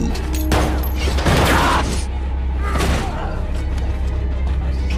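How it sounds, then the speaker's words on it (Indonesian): A few heavy gunshots and booming blasts ring out in a dense, loud mix, with voices and action noise around them. "membuat aksi tembak-tembakan pun terjadi"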